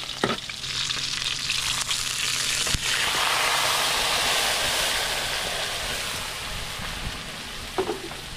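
Onions sizzle loudly in hot cooking oil, a dense, steady, close crackle that swells after a sharp drop-in and continues with occasional stirring clicks.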